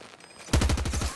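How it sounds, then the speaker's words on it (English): Rapid burst of video game gunfire, loud, close shots in a fast rhythmic string of about eight reports after a quieter start; no voices. "Hit him with a sniper shot."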